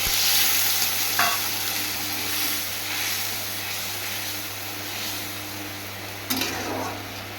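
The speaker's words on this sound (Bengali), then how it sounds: "একটু জল দিয়ে দিলাম।" Pointed gourd frying in a pan after a splash of water, a steady loud sizzle and hiss with a couple of brief clatters of a utensil, no voices over it.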